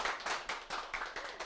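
Brief clapping from a studio audience greeting professor Kang Chung-in, a lecturer on education for the fourth industrial revolution, onto a Korean lecture-show stage; a few distinct claps in a loose rhythm, moderately close and fairly quiet.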